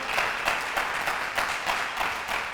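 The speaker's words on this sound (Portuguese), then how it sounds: "Dá um aplauso aí" Congregation clapping during a church sermon, a dense continuous patter of many hands at moderate level with regular pulses of emphasis, nothing else heard.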